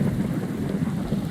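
Minecraft thunderstorm weather: steady heavy rain with a deep rumbling thunder bed, dense and continuous throughout with no talk.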